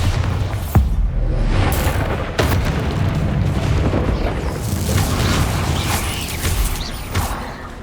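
A Bombarda spell detonates in Hogwarts Legacy, with a sharp blast near the start and another later, followed by loud rumbling debris and crumbling that rolls on steadily for several seconds.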